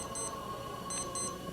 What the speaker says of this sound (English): That's my alarm, and it's 6 p.m.